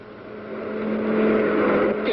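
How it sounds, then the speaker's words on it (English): Steady engine hum of cars driving in a cartoon, a broad rumble that swells slightly and holds, with a faint tonal whine underneath; no talking. "I can hear the cars."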